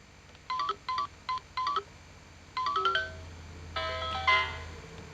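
Thin electronic beeps from a circuit-bent toy keyboard driven by a microcontroller, several short separate notes, then a quick run of tones and a held chord, fairly quiet.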